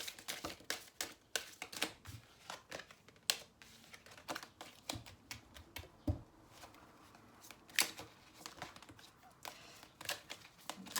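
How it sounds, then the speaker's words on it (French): A deck of tarot cards is shuffled by hand up close, with repeated quick riffling and slapping bursts in an uneven rhythm and no talking. "je vais remélanger un petit peu"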